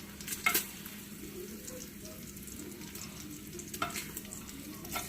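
Bacon fries in a pan with a steady background sizzle while fat renders out, and a couple of brief utensil clinks and stirring scrapes stand out over the hiss.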